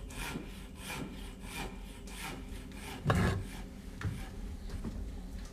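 Steady back-and-forth strokes of a pit saw cutting lengthwise through wood, rhythmic and close, with one heavier rasping stroke midway.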